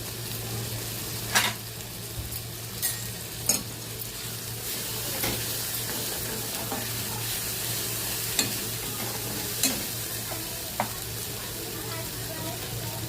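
Cumin seeds and spices with turmeric and homemade masala frying in a pan, a steady close sizzle with low hum and occasional stirring clicks throughout, no talk.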